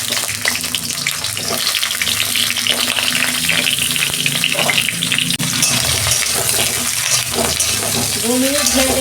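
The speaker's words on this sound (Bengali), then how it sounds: "আমি চিচিংয়েটা ভেজে নেব।" Snake gourd fries in hot oil in a kadai, producing a loud, close, continuous sizzle and crackle that holds steady throughout.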